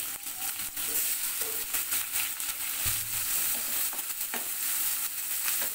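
Chopped onions fry in oil in a wok, a dense continuous sizzle up close with occasional stirring knocks and scrapes. No one speaks.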